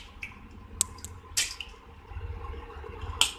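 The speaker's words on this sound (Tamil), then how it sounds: "இப்போ இதில் நம்ம இந்த பருப்பை வந்துட்டு தண்ணியில் வாஷ் பண்ணிட்டு போட்டுடலாம்." Toor dal lentils being washed by hand in water make sparse close drips, soft squishes and small splashes over a quiet background, with no talking.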